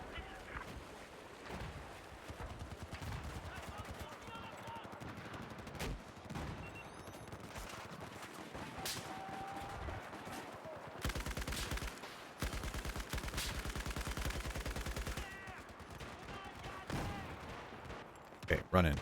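Battlefield 4 multiplayer combat with mortar fire, repeated sharp blasts and bursts of gunfire scattered across a noisy battlefield, some close and loud, others distant, with a player talking over it.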